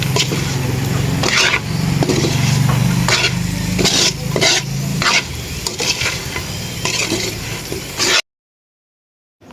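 Cassava fries loudly in hot oil and sugar, a dense bubbling sizzle broken up by repeated scraping stirs, and the sound cuts off abruptly near the end.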